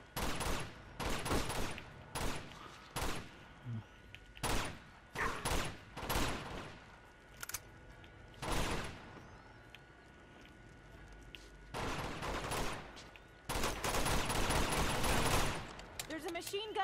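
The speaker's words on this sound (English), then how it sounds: "There's a machine gun over there." Machine gun fire in the Uncharted 2 video game, loud bursts of rapid shots that come in clusters with quieter gaps between, and a voice speaks over parts of it.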